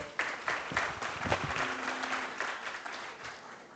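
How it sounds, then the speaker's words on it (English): Steady applause from a leadership conclave panel audience fills the room, dense clapping that rises quickly and holds at a fairly even level before tapering slightly. "Let's give them a big round of applause."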